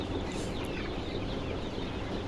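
A dense flock of broiler chickens on a poultry farm clucks and chatters continuously, a steady crowded murmur of bird calls filling the space with no talking.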